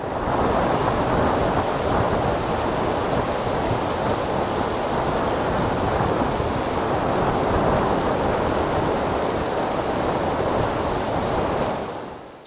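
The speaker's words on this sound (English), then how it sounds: "suddenly the big winds picked up and the rain arrived" A nasty storm hits a boat on the Red Sea, with strong wind, heavy rain and thunder merging into a loud, dense, continuous roar that barely varies before cutting off at the end.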